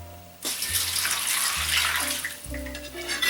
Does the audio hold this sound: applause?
no